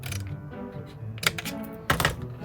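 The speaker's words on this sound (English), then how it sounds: "take my scissors and cut this at an angle" Scissors cut through paper at an angle, producing a few sharp, crisp snips spaced about a second apart, close and fairly quiet.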